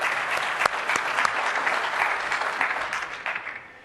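An audience at a Microsoft developer conference keynote claps steadily in a dense wash of applause, loud at first and tapering off toward the end; no talking.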